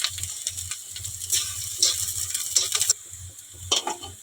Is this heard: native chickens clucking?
no